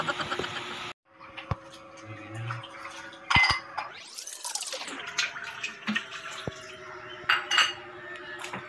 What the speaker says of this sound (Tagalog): Sabay natin ang paghuhugas, ang daming pinggan